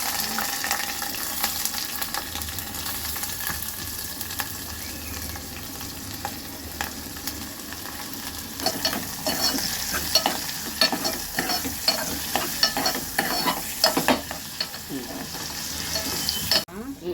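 Onions and green chillies frying in a pan for a boti curry, a steady close sizzle with occasional stirring scrapes and clinks, growing a little busier toward the end, with no talking.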